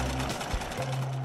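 Sewing machine stitching fabric pieces together: a brief, steady mechanical whir with a rapid needle chatter, close and fairly loud, with a slight change in pitch midway.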